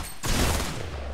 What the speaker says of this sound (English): I hear a ton of shooting